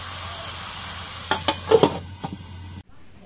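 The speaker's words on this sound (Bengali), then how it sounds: "এখন মাছের মাথাটা রেখে একটু কষায় নিই।" Fish heads frying in a pan while being stirred: a steady sizzle runs throughout, broken by several sharp scraping and clattering stirring strokes in the middle before the sound cuts off.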